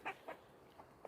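Farmyard chickens make a few short, faint clucks, scattered sparsely across a brief moment near a milk cow.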